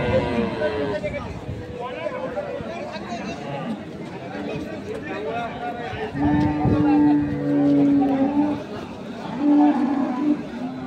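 Several dairy cows and calves moo in long, low calls over a busy crowd of people chatting nearby at a livestock market.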